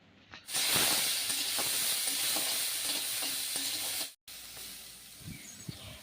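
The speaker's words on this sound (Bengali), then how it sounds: "সর্ষের তেল গরম হলে কাঁকড়াগুলিকে ভালো করে একটু নুন হলুদ দিয়ে ফ্রাই করে নেব" Crabs fry in hot mustard oil with salt and turmeric, giving a loud, bright sizzle and hiss with stirring clicks that cuts out abruptly, then a quieter stretch of faint clatter.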